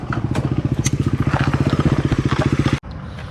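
A Royal Enfield Himalayan 450 (2025) idles close by, its single-cylinder engine thumping in a steady, rapid rhythm before it cuts off abruptly, leaving a faint hum of the surroundings.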